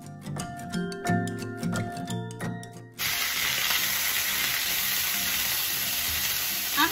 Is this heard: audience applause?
no